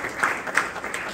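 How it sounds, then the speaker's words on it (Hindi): Audience at a Bhagavatam lecture applauding to honour sponsors and their family, a steady wash of clapping with a few brighter swells, moderately loud and fairly close. "जय कुमार उनके परिवार की ओर से आप उनको भी तालियों के साथ सम्मानित कीजिएगा।"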